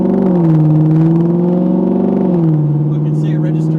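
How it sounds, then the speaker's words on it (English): A car's exhaust drones steadily and loudly during a drive in Australia, a continuous low hum that shifts pitch slightly partway through, likely as the engine speed changes. "it might be now droned out, like muffled out by the exhaust noise"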